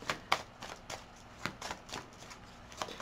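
Tarot cards being shuffled by hand, heard as a series of faint, irregular soft riffs and flicks, close and quiet, with no talking.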